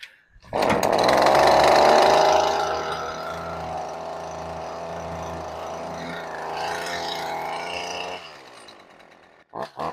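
The small gasoline engine of a pressure washer from lawn equipment catches after a pull start and runs with a loud, steady buzzing drone close by. It keeps running for about eight seconds before cutting off, with no talking over it.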